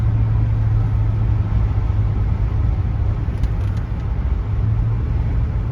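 A 1973 Ford LTD Brougham with a 460 V8 and factory-style dual exhaust rumbles from inside the cabin while driving, a heavy, steady, muffled low drone with constant road noise and no change in pitch.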